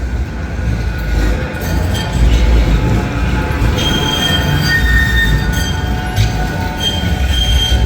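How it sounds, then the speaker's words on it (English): A Manchester Metrolink tram on the Altrincham line rounds a corner close by, its wheels squealing in high drawn-out tones over a loud rumbling roll, with no speech. "But here is one of the trams I used to catch from here, coming round the corner now, Altrincham"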